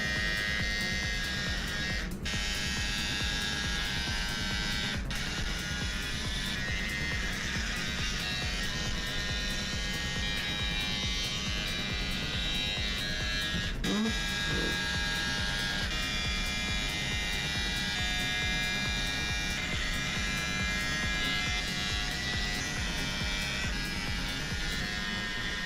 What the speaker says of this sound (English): It's much easier to shave someone else's head than it is to shave your own.